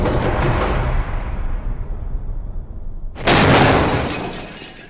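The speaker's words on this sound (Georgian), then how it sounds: "სადაც საჭიროა შენობის კარიც უნდა აფეთქდეს" Explosive breach of a building door during a special forces assault: a fading rumble and debris noise, then a sudden sharp bright blast with crashing, shattering debris that slowly decays, no voices.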